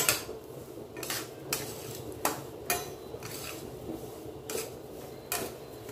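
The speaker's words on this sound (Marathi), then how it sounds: "अगदी कमी गॅसवरती आपण हा चांगला भाजून घेणार आहोत।" Coarse cracked wheat roasting in a pan over low gas while a spoon stirs it, making quiet, intermittent metallic clinks and scrapes against the pan, with no talking.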